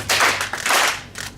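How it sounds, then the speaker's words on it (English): Three loud hand claps from a small group of people, each a broad, slightly ragged burst with short gaps between them. "Clap 3 times."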